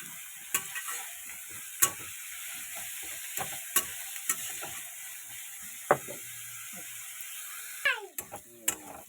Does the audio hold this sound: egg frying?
yes